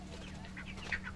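Chickens in a poultry farm give faint, scattered clucks and short calls over a steady low hum of background noise.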